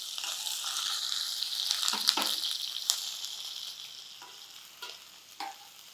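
Thinly sliced onion hitting oil in a frying pan while an aloo masala fry is cooked, giving a bright steady sizzle with a few sharp clinks and scrapes of stirring that slowly settles and softens.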